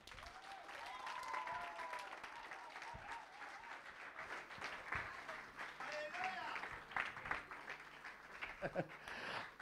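A church congregation breaks into sustained, dense applause during a pastor's sermon, a steady wash of many hands clapping with cheers and voices rising through it.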